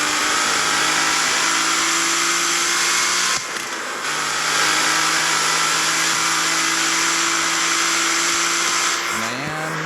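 Nissan Skyline R33 driving on a track, a steady loud engine drone that holds its pitch, dips briefly, then resumes and climbs as the revs rise near the end.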